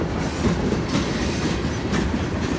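A train rolls steadily past on the rails on a hill near Mount Orab, a loud, continuous rumble with clickety-clack wheel noise and faint squeal, close by with no voices.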